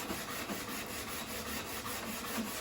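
Sandpaper rubbing along a new wooden axe handle in quick back-and-forth strokes, a soft, even rasping rhythm heard close and faint, with no voices.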